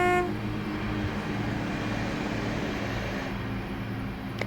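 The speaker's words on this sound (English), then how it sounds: "Oh, we can hear a train." A passing train in the Train Simulator 2021 video game on the Birmingham Cross City line, a steady loud rumble with a brief horn toot at the start, heard alone without talk.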